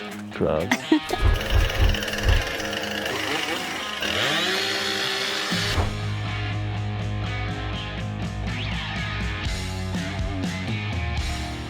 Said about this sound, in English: I'm so eager to get back on my chainsaw